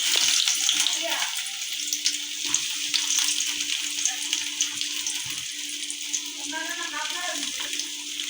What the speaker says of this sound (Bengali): পেঁয়াজটা একটু ভালো করে ভেজে নেব, ব্রাউন কালার করে